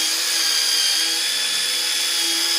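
Polisher running steadily on Lambretta scooter bodywork such as a mudguard, a constant high-pitched whine with a whirring tone, loud and unbroken, no speech.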